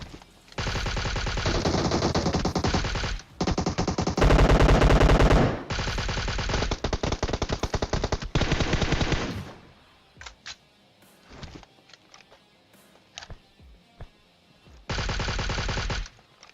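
Long bursts of rapid automatic gunfire from a video game, loud and close, broken by short pauses and scattered single shots, with a final burst near the end.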